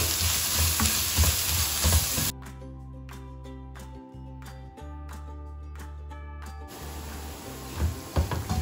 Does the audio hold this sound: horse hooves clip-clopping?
no